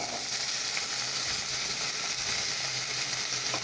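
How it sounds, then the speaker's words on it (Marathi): Potato pieces sizzling in hot oil with chilies, a dense, loud, unbroken frying hiss heard up close, with faint stirring underneath and no voices. "याच्यानंतर तेलात मिरची टाकायची आता याच्यामध्ये बटाटा टाकायचा"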